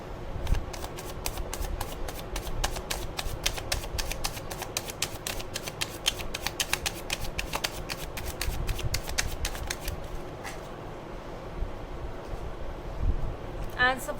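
Tarot cards shuffled close by in a fast run of crisp riffling flicks lasting about ten seconds, then fading to a few scattered taps and soft handling.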